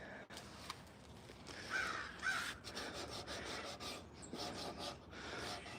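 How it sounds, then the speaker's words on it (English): Crows cawing in a backyard with bird feeders and a bird bath, several harsh caws rising over a faint scraping rasp of wood carving. "up here this way full of crows"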